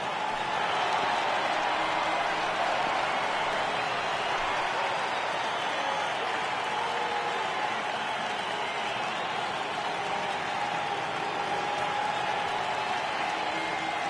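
A baseball stadium crowd at a Nationals–Reds opening-day game rises in a sustained, steady roar of cheering and clapping for a full count, loud and continuous throughout.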